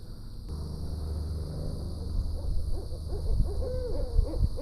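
A pair of owls, male and female, hoot at night at J.W. Corbett Wildlife Management Area in South Florida. Repeated mid-distance hoots rise over a steady chorus of crickets.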